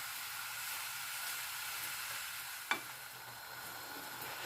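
Chicken pieces sizzle steadily in a hot frying pan as they are turned over, with a constant crackling hiss and one brief clink of a utensil.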